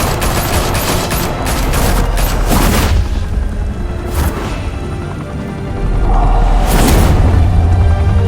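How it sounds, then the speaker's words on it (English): Loud volleys of gunfire and booms in the game Batman The Telltale Series, bursts of shots layered with blasts and whooshes, near and intense, with no talk. "Open fire!"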